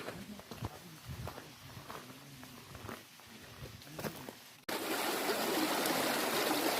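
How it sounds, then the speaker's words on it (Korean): Footsteps and scattered rustling on a Taebaeksan mountain trail give way to a steady, close rush of a mountain stream trickling and splashing, loud and continuous to the end. "물이 졸졸 흐르고 있습니다. 물소리가 아주 좋네요."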